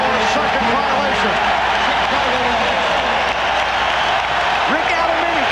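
Dense basketball arena crowd at the 1992 NBA Finals in Portland, Trail Blazers against Bulls, roaring and cheering steadily throughout, with a broadcast commentator's voice running underneath.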